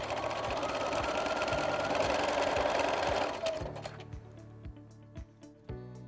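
A sewing machine stitches along a seam line in a loud, fast whirring run, then slows to a few separate mechanical thunks as it stops, close and alone with no speech.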